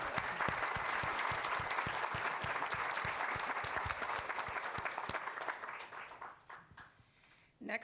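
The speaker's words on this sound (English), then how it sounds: "Let's give a round of applause for Dean Onwuachi-Willig." Conference audience applauds after a speaker is introduced at a morning plenary, with dense clapping and distinct nearby claps that gradually thin and fade out.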